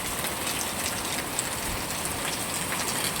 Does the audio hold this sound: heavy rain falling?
yes